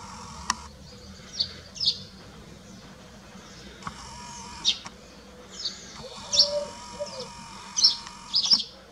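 Small birds chirp in the early morning, with scattered short high tweets and calls coming in clusters, louder bursts near the end, over a soft background hum with insect-like buzzing.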